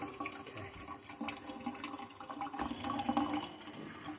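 Water running through a UV water filter on an intake hose, a continuous rushing, gurgling flow close by that swells toward the end.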